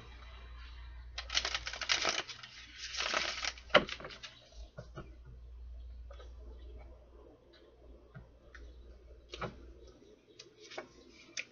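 Bursts of crisp, riffling tarot card shuffles near the start, followed by scattered light taps and snaps of cards being handled, close and fairly quiet.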